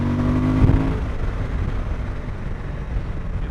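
Suzuki V-Strom 1050DE motorcycle engine on a test ride, a steady low drone with a brief rise near the start, then holding an even, busy note with no talking.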